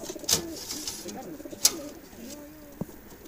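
Racing pigeons, around 500 to 600, coo softly amid a busy outdoor scene at a training release, with a couple of sharp clacks and faint bird calls over a low background hum.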